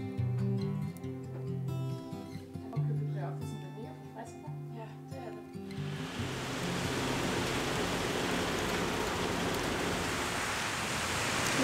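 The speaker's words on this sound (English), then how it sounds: "We've made it to Itaewon in pouring rain" Heavy rain pours down on a street in Itaewon, Seoul, a steady dense hiss that takes over loudly after a stretch of tonal music at the start.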